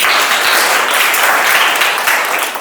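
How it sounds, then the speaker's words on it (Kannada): Schoolchildren clap together for their teacher's birthday, a loud, continuous burst of many small hands close by that holds steady before easing slightly at the end. "ಚಪ್ಪಾಳೆ ಹೊಡ್ರು."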